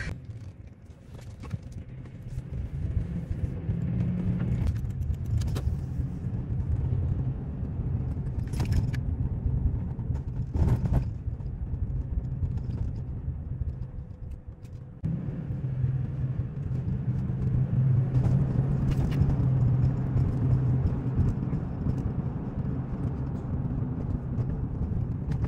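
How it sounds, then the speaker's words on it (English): A car driving on the road heading back across a lake, a steady low engine and road rumble heard from inside the cabin with a few brief rattles and clicks. "we're headed back across the lake. Another hour drive home"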